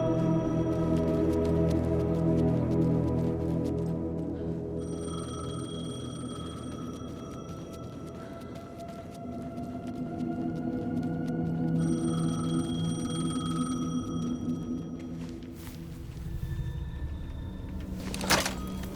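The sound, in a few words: payphone ringing in the video game Alan Wake 2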